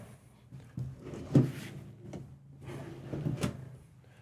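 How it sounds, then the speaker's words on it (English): A soft-close drawer in a Renegade Valencia 38RB motorhome shuts with a few muted thuds and a gentle sliding rustle, fairly close and quiet, with no talking. "Soft close."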